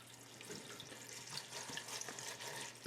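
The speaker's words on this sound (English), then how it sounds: "Add enough water to go so it goes over the tops of them." Water pours steadily from a tap into a pot of collard greens with a soft, hissing splash, fairly quiet and close.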